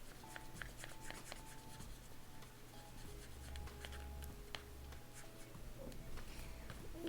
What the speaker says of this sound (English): you can use googly eyes or Sharpie to color the nose black and draw some eyes.